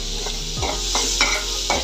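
Chopped onion and green chili sizzle in a hot pan with crab, a steady frying hiss broken by a few scraping stirs of a spoon, close and fairly loud.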